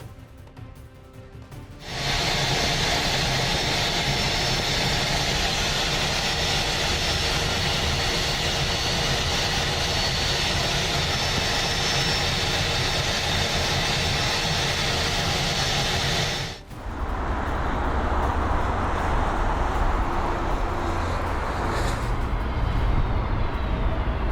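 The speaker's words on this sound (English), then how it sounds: "This is what the startup of CFM56 engines on an Airbus A320 looks like at a temperature of minus 28 degrees Celsius" CFM56 jet engines on an Airbus A320 start up at minus 28 degrees Celsius, a loud, broad roar that switches on abruptly and holds steady, briefly dips, then returns with a deeper rumble.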